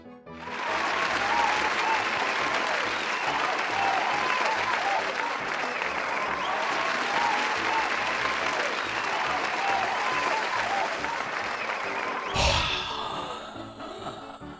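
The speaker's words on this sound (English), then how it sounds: "Cheer again." A studio audience cheers and applauds loudly and steadily for about twelve seconds, then the sound is cut off abruptly near the end.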